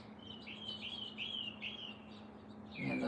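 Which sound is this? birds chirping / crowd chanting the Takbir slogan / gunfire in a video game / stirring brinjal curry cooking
birds chirping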